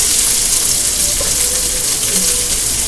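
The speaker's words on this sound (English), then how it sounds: "So keep on stir frying it." Chicken fried rice stir frying in a hot pan, a loud, steady hiss and sizzle that fills the whole stretch without pause, close up and with no talking over it.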